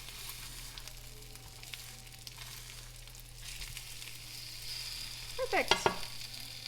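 A breaded freezer dinner fries in oil with a soft, steady sizzle. Near the end a spatula scrapes beneath the coating and flips the piece, producing a brief louder burst of sizzling and clatter, and a voice speaks briefly.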